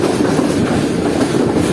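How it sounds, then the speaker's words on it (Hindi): The Sir Syed Express rumbles across points while switching tracks into Jhelum railway station in Pakistan, giving a loud, steady rolling roar with faint rhythmic wheel clatter close by. "ट्रेन ट्रैक चेंज करके प्लेटफॉर्म लाइन पर आ चुकी है।"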